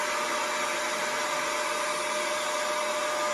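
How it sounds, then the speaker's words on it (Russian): A cordless wet-and-dry vacuum cleaner runs close by with a steady, loud, high-pitched whine and airy hiss that holds even from start to end, with no voices. "Нажимаете вот сюда, и вот так он пылесосит."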